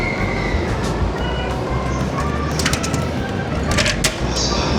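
A train at a Tokyo station: a loud, close rumble of rolling carriages with wheel noise, sharp metallic clanks and squeals over the steady din, and no clear talk.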